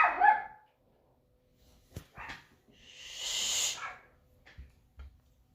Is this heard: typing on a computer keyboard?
no